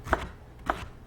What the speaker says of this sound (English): So some carrots there. Now I'm just gonna cut this.